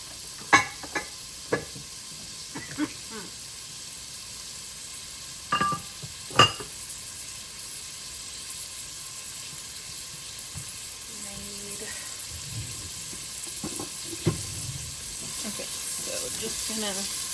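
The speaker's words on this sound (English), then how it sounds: "just so I can saute the onions." Onions sauté in oil in a pan, a soft, steady sizzle broken by several sharp knocks and scrapes of a utensil early on, then continuing quietly with faint clatter.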